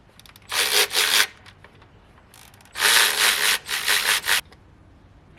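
Old gasket material is scraped off a part on an SN95 Ford Mustang Cobra engine, two loud rasping bursts of quick back-and-forth scraping strokes, close up, with a short pause between and no talk.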